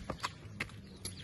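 A filly being walked by hand, her hooves striking ground in a few distinct clip-clop steps at a slow, even pace, close by with no talk.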